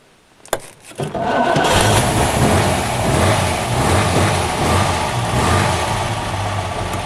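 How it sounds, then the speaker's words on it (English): A 1935 Vauxhall DX engine cranks and fires after a sharp click, then runs loud and steady at a rough idle for several seconds, close by with no talking. "Likes a bit of gas to start. Turn the key. Starter's on the floor."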